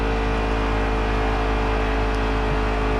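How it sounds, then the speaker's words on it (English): Steady droning car engine in the NASCAR Heat 3 racing game after the engine has blown, a continuous loud mechanical hum with a whirring tone and no break across the whole stretch. "Uh-oh, we've blown the engine."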